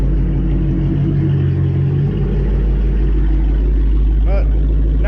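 A custom Corvette cruises down the interstate at about 60 miles an hour, its engine drone and road rumble steady and close throughout, with a brief chirping sound near the end.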